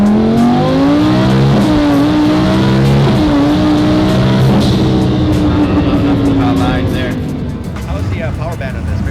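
A mid-frame turbocharged car accelerates in second gear, its engine rising steadily and loudly up through the revs, with someone talking over the constant roar.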